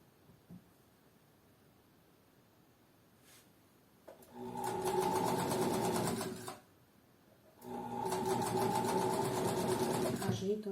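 Sewing machine stitching folded fabric, running in two sustained bursts with a pause between them, after a quiet stretch of faint handling sounds.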